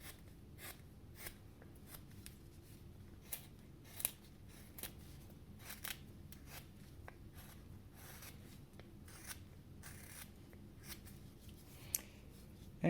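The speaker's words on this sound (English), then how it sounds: "Now we can continue to work around the pumpkin and remove all these big corners and the saw marks." A carving tool shaves corners and saw marks off a pumpkin while it is rounded into a crow shape, giving quiet, close, repeated scraping cuts with small clicks at an irregular rhythm.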